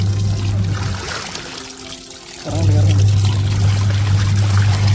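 Water poured into a tub of clothes and soap powder for hand washing, a steady close pour that stops briefly midway and then resumes more strongly, with people talking over it.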